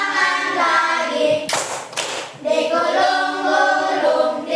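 Hands clap in two quick, sharp bursts in a classroom action song, with a voice singing before and after.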